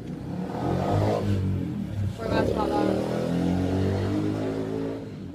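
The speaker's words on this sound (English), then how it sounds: "Guy on his motorbike." A loud engine roars steadily nearby, rising and falling like a motorbike going past, with someone speaking briefly over it.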